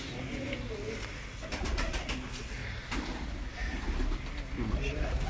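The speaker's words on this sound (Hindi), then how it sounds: "बहुत अच्छे कबूतर हैं जी माशाल्लाह" Sialkoti pigeons coo in soft repeated throaty phrases against a busy, noisy background.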